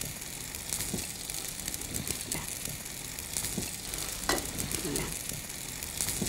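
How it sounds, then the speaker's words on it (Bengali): Rice is stirred into melted sugar in a pot for a sweet rice dish, giving a steady close sizzle broken by scraping stir strokes, with no talk over it. "এখন তুমি খুব মিশিয়ে নাও"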